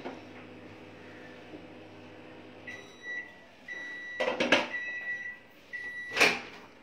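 A microwave oven hums at low volume on microwave mode, then a few beeps and door clunks sound nearby, with no one speaking.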